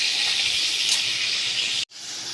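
Potato pieces fry in hot oil with a steady, bright hiss that stays even throughout, broken by a brief drop just before the end.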